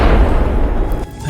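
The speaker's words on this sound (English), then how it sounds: "Somewhere deep in the forest was a loud thud. It sounded as if someone had struck a tree with a huge stick." A single loud, deep thud deep in a forest, like a huge stick striking a tree trunk, booming heavily and then fading away.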